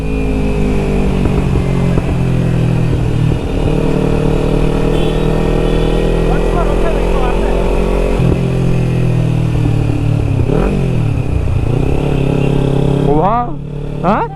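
A modified Kawasaki Ninja 300 fitted with an Akrapovic exhaust idles loudly and close by, with a steady engine drone and a few quick revs near the end. Voices speak over the engine throughout.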